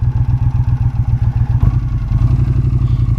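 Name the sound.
muscle bike motorcycle engine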